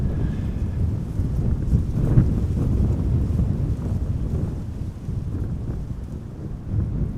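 Steady wind buffets the microphone beside runway 18R, the Polderbaan, at Amsterdam Schiphol, blowing at about 16 knots as a loud, continuous low rumble with gusty swells and no voices.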